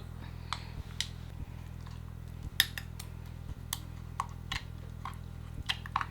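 Spoon stirring a peanut-brittle dipping sauce with a little added sugar for a Thai mackerel miang dish. Soft, irregular clinks and taps of metal against a bowl sound over a steady low hum, with no talking.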